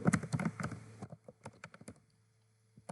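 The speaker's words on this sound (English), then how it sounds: "Now in this chat box, I'll type /imagine and I'll enter my prompt here." Computer keyboard keys being typed in quick bursts, a dense flurry of close, crisp clicks that thins into sparse scattered taps and a final lone keystroke.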